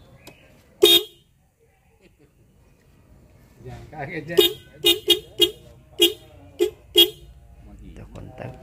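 Denso horn fitted to a motorcycle: one sharp blast, a pause with brief talk, then a run of six or seven short, loud, evenly spaced test honks.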